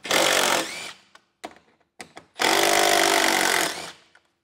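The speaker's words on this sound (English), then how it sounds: "we're going to have 4 10-millimeter bolts on the top of our radiator cover that we'll have to remove" A power tool spins off 10 mm bolts from a 2023 vehicle's radiator cover: two loud whirring bursts of a second or more, separated by short clicks and rattles of the tool and bolts.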